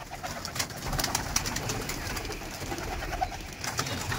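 Pigeons cooing from a loft as the birds are released to fly, soft repeated coos and light wing flutters amid a faint outdoor background.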